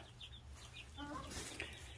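Chickens in a packed farm coop give a few soft clucks and a short rooster-like call over a low, steady background hum, faint and fairly distant.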